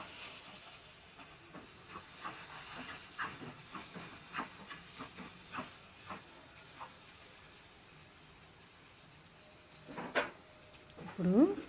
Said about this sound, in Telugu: ఇది పచ్చివాసన పోయే వరకు ఫ్రై చేసుకోండి.